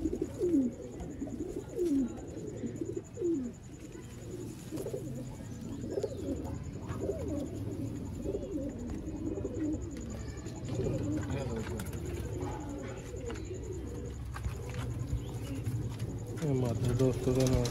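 Sialkoti pigeons coo repeatedly in a cage, soft rolling calls layered over one another against a steady background hum, with faint voices nearby.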